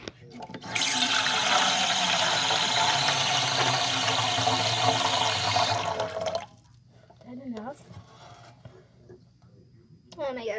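Bathroom tap runs hard and steady for about six seconds to fill dog water bowls, then cuts off abruptly, followed by quieter handling sounds and a voice.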